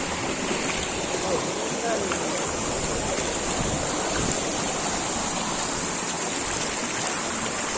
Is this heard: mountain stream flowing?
yes